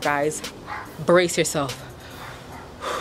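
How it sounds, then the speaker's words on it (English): A person speaks while a dog barks and yips a few times nearby. "excuse the dogs barking"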